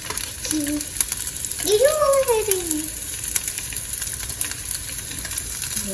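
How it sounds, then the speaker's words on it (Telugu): Onions, ginger and green chillies fry in hot oil for a flat bean curry, giving a steady, fairly quiet sizzling hiss throughout, with a brief rising and falling voice-like tone near the middle. "ఆయిల్ వేడెక్కాక అలాగా ఉల్లిపాయలు, అల్లం, పచ్చిమిర్చి,"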